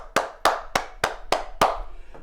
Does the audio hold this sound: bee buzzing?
no